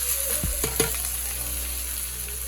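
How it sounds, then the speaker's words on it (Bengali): Bay leaf, dried red chilli and cumin dropped into hot oil, crackling in a steady close sizzle with a few quick clatters near the start and no voices. "তেজপাতা শুকনো লঙ্কা জিরা গরম তেলের মধ্যে দিয়ে দেওয়া হলো"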